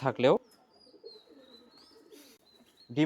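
Pigeons coo softly and repeatedly in a loft, with a louder throaty coo at the start and another at the end; faint chirps and background hum fill the gaps, and no one speaks.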